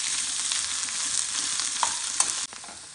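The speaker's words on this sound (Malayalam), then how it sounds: "വെച്ചിരിക്കുന്ന സവാള ഇതിലേക്ക് ആഡ് ചെയ്ത് കൊടുക്കാം. ഇത് നന്നായിട്ടൊന്ന് മിക്സ് ചെയ്യാം." Chopped onions frying and being stirred in a pan for a Kerala beef masala fry, a constant hissing sizzle with light scraping strokes that cuts off abruptly near the end, no voices.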